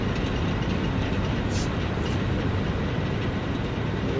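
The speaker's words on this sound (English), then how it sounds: "This would be the train" A train in the factory-building video game Satisfactory rolls along with a constant dense rumble of wheels on track, and a brief high metallic squeal rises once partway through; no one speaks.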